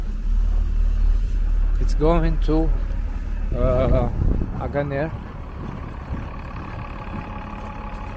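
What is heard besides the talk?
city bus driving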